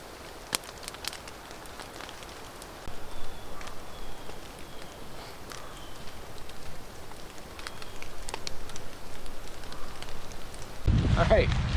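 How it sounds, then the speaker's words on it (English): A campfire burns outdoors in the rain, soft crackles and pops scattered over a steady hiss of rainfall, with a sharp loud rustle at the very end. "Fire in the rain."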